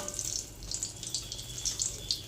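Snacks frying in a pan of shallow oil with a little oil sprinkled over the top: a steady, close hiss and crackle of sizzling with small pops, and no voices.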